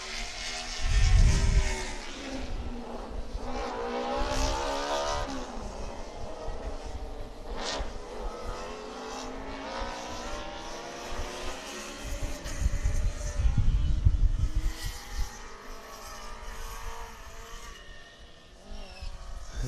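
Race car engines roar past on an endurance race track, including a car from Romania, rising and falling as cars pass by, with loud surges near the start and again midway.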